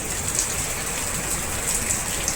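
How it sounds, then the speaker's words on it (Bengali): Heavy rain pours down in a constant, loud, dense hiss with no pauses or voices over it. "জোরেই বৃষ্টি পড়ছে।"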